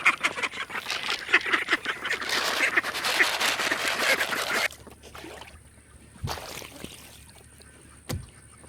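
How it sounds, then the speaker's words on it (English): A flock of ducks quacks and honks in a busy, continuous chorus during morning farm chores, then goes suddenly quiet, leaving a few sparse knocks and thumps. "Now we gotta take care of the ducks, and Silky's over here."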